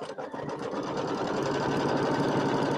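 A sewing machine runs steadily through a tack down line while making a pieced pineapple quilt block, a continuous close whirring hum with a fast stitching rhythm and no pauses.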